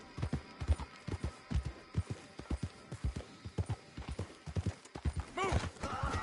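A horse gallops in the video game Red Dead Redemption 2, its rapid rhythmic hoofbeats pounding close, ending in a loud neigh as someone talks over it.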